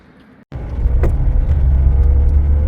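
A car drives along a road in northern Norway near Karasjok, its engine and tyre roar starting abruptly and holding as a loud, steady low rumble, with no talking.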